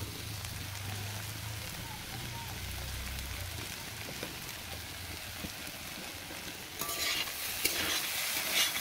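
Spiced vegetable curry made with banana stem frying in a pan as it is stirred: a steady soft sizzle with scraping, getting louder and busier near the end.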